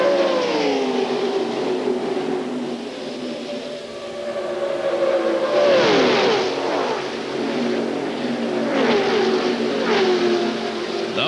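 NASCAR Busch Series stock cars racing in the closing laps of the 1999 Touchstone Energy 300, a loud continuous engine roar with pitch sweeping down as cars pass by, several passes overlapping across the stretch.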